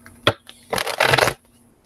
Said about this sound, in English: We're going to finish shuffling and see if they end up in the reading.